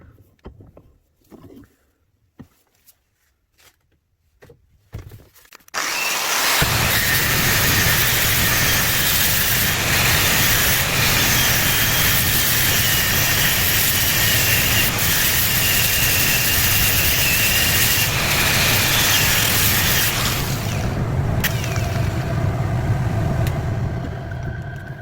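A power grinder shapes a homemade wooden slingshot handle, starting after a few faint knocks and then running as a loud, steady, close whine with a rasping texture that continues nearly unbroken.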